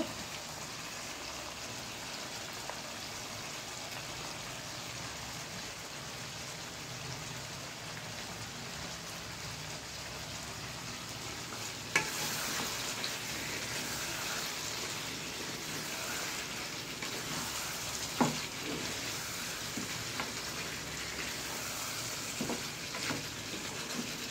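Chicken curry frying in a pan after tomato sauce goes in, giving a steady, even sizzle like light rain throughout, with a few faint clinks partway through.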